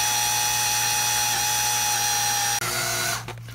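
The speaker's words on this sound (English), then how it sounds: "we've already drilled about a half an inch into this very hard grade 8 bolt" A power drill running at low RPM bores into a very hard, broken grade 8 bolt. It gives a steady, close metallic whine that stops abruptly, briefly resumes, then fades out.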